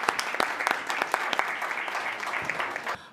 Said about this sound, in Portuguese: Uma salva de palmas para o senador